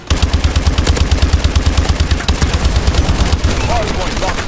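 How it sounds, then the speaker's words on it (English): Loud, rapid automatic gunfire in a Call of Duty Advanced Warfare multiplayer hardpoint match, a continuous rattling stream of shots with game announcer voices underneath. "Taking fire!"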